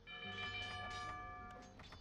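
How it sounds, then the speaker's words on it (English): A town bell rings in a medieval strategy game, its sustained, layered metallic tones sounding steadily and fairly loud throughout, with repeated strikes and no talk. "He's rung his town bell."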